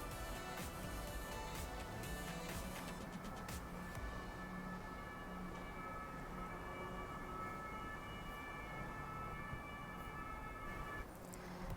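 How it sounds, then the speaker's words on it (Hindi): A German ambulance siren wails steadily on a road, loud and continuous for about eleven seconds before it cuts off near the end, with no talking. "एम्बुलेंस आ गई थी बीच में"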